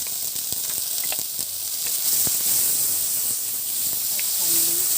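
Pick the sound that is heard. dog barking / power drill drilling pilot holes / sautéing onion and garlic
sautéing onion and garlic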